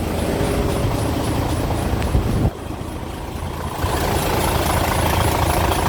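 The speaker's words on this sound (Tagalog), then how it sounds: "Super ganda ng makina." Isuzu 6WF1 inline diesel engine in a 12-wheeler wing van truck, running with a loud, steady, close rumble, briefly dipping in level midway before returning to its even drone.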